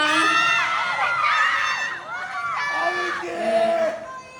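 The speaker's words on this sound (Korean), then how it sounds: "もうものすごい歓声ですよ。" Fans at a red carpet premiere event cheer and shout together, a dense crowd roar with high excited whoops and screams rising and falling over several seconds, loud and sustained throughout.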